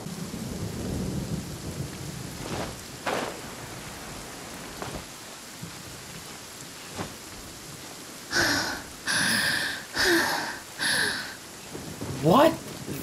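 Rain pours in Genshin Impact with rumbles of thunder, a steady hiss under the storm, then a series of louder, sharper game sound bursts near the end.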